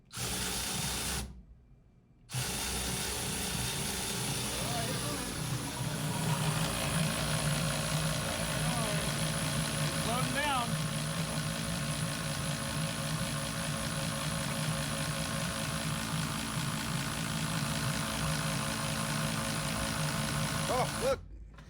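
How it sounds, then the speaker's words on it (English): A drill motor spins the front of a Daley Engineering dry sump oil pump on a 711ci twin-turbo Hemi jet boat engine in a garage, a steady close whirring drone after a brief pause, running on continuously. "right now I've got a drill motor going to the front of the daily engineering dry sump pump"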